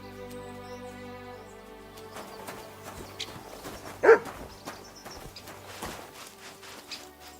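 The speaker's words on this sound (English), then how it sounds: "Barking?" A dog barks in Kingdom Come Deliverance 2, a single sharp bark at middle distance over game background music and ambience.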